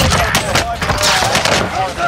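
Gunfire in a multiplayer shooter, a dense, loud burst of rapid automatic shots and sharp cracks filling the whole moment, with no gaps between them.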